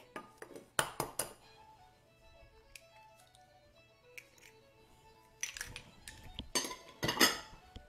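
Metal utensil clinking and tapping against a bowl while beating eggs into brownie batter for cheesecake brownies, in bursts of rapid clatter separated by quieter pauses, close and fairly faint, with no talking.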